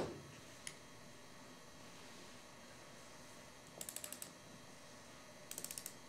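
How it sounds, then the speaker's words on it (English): A torque wrench ratchets as it tightens diaphragm screws to 65–70 foot-pounds on an ARO PD20P-X diaphragm pump. Two short bursts of rapid metallic clicks sound fairly faint against a quiet room hum. "Using the torque wrench and a large crescent wrench, torque each diaphragm screw to 65 to 70 foot-pounds"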